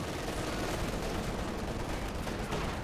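Dense, continuous small-arms fire aimed at riflemen in the World War II strategy game Company of Heroes 2, a steady crackling barrage of overlapping shots with no clear pauses, heard close and fairly loud with no talking.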